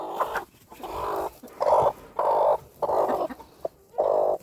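An Australorp hen in a farmyard gives a series of loud, close, drawn-out squawking clucks in regular bursts, about six calls separated by short pauses.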